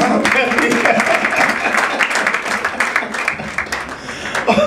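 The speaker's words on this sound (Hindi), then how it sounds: "तालियां" Applause at a church sermon: a dense, continuous wash of many hands clapping, loud and sustained throughout, with crowd voices mixed in.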